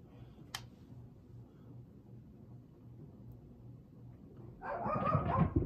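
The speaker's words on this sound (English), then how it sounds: "Excuse my dog." A dog barks loudly and close by near the end, after a quieter stretch of low steady hum from an Evergo Roma ceiling fan.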